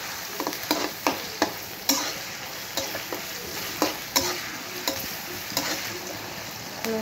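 Onions fry with a little ground spice paste in a pan, a constant bright sizzle broken by regular sharp spatula scrapes and taps, close up with no talking.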